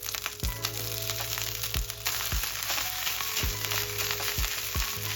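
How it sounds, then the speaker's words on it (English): Cooked rice frying in a hot wok for takeaway-style egg fried rice, a steady loud sizzle with sharp scraping strokes recurring every second or so as it is stirred. "To the hot wok, add rice."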